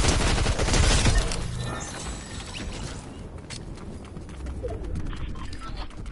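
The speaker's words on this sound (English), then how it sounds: "I'm shooting." Fortnite gunfire bursts loud and dense at first, then keeps up as rapid, crackling shots and mechanical clatter through the rest of the clip, with no talking.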